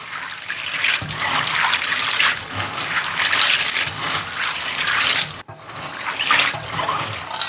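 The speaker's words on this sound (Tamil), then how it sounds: "நான் வந்து 2 தண்ணியில் கழுவி எடுக்க போகிறேன்." Chickpeas being washed in water, sloshing and rubbing in a bowl with running water, continuous and close, with bursts of swishing and a brief pause midway.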